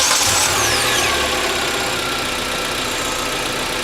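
A car engine fitted with homemade PVC air intake tubing, painted chrome, runs steadily up close, with a loud, continuous mid-pitched drone and a brief rise at the start.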